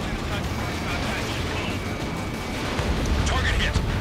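Bombs exploding in the Ace Combat 7 air combat video game: a loud, unbroken roar of heavy booming rumble that grows slightly stronger toward the end.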